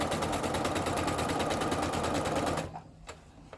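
A domestic sewing machine runs steadily, stitching a straight seam through cosplay fabric for about two and a half seconds with a fast, even needle rhythm, then stops abruptly, leaving a couple of faint clicks.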